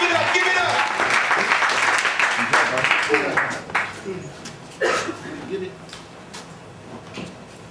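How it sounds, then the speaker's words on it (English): Audience applause for a spoken word poet at a live performance event, a dense burst of clapping that fades after about four seconds, with voices talking over and after it. "Give it up for Taalam. Clap, clap, clap, clap."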